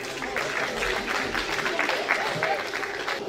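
At a summer caravan festival show of celebrity lookalikes, a crowd applauds a Coluche impersonator with a moderate, mid-distance patter of clapping, overlapped by some voices.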